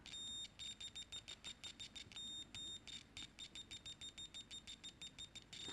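A cheap Mastech MS8233C multimeter gives a rapid series of short, scratchy continuity beeps, stuttering and repeating irregularly at close range while the probes make contact.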